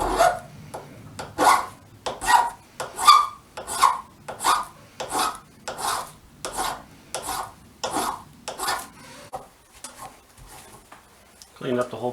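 Hand file rasping back and forth through an enlarged bolt hole in motorcycle crash bars for a 2019 Honda CB500X, about a dozen steady strokes close up, then it stops.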